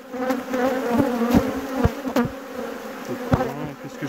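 Honeybees drone steadily at an open beehive while a beekeeper removes old frames and shrinks the hive for winter; a close, continuous buzz is dotted with brief louder passes of individual bees.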